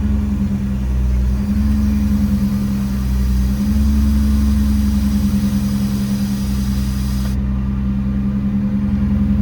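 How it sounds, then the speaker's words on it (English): An EnPak air compressor mounted on a 2018 Ford F750 truck runs with a steady, loud low-pitched mechanical drone and engine-like hum, holding an even level as pressure builds. "Compressor for the EnPak cuts on. Start building up pressure here."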